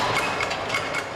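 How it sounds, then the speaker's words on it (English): A car engine cranking at minus 35 Celsius with oil too thick to let it turn over and fire: slow, laboured, rhythmic churning pulses, steady and moderately loud, with no catch. "at minus 35 Celsius, the oil is just too thick to enable the engine to turn over and fire"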